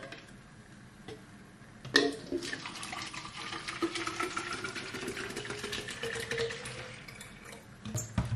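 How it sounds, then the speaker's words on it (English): Water pours from a tap or jug into a child's water bottle in a home kitchen, a steady trickling stream starting sharply and running for several seconds, close and moderately loud. "pouring water into their water bottle"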